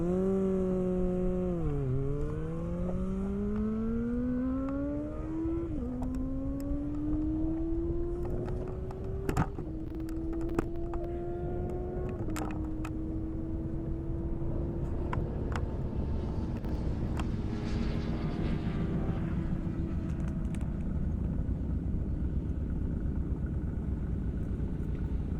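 Kawasaki ZX6R motorcycle on a drag run at an airstrip, its engine winding up through several rising shifts in a steady, loud drone that stays near and continuous throughout.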